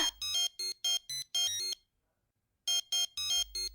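A mobile phone rings in a Tamil TV serial scene, with six rapid electronic tone bursts, a pause of about a second, then four more bursts, loud and clear with no talk over it.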